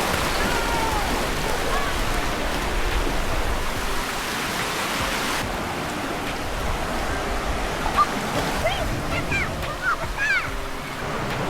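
Broad, continuous wash of surf roars steadily, like big waves breaking nearby at a Desaru beach, with faint voices and children's calls appearing near the end.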